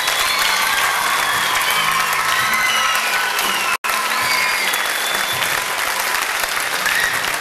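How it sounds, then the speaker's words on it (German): Audience applause with some cheering for a theatre stage crew, a dense steady roar of many hands sustained for several seconds, broken by one brief dropout near the middle. "Herzlichen Applaus für die ganze Bühnencrew."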